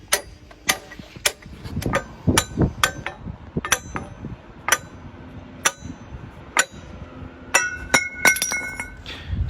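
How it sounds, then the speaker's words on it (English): Bronze bush being forced off the end of a lever bar from a Fowler steam engine, giving a series of sharp metallic clinks and knocks at irregular intervals, fairly close, with quieter scraping between strikes. "We've still got to get the bronze bush off the end of the bar, which Dave's doing here with a bit of brute"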